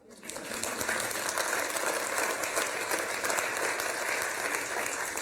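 A large audience at a university provost's town hall breaks into steady, dense applause that holds at an even level throughout, heard from within the crowd.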